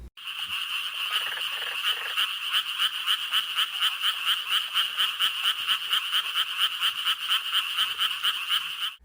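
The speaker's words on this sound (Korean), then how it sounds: "청개구리의 노래를 한번 들어볼게요." A male tree frog calls continuously during breeding season in a rice paddy wetland, a rapid, pulsing chorus of high, rhythmic croaks, loud and close, with no voices.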